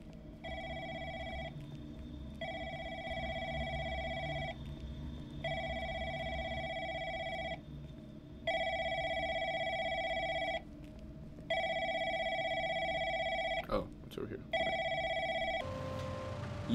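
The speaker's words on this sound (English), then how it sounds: "There's a phone ringing." A telephone rings in The Mandela Catalogue video game: a clear electronic ring repeats in regular bursts with short pauses, then a brief clatter near the end.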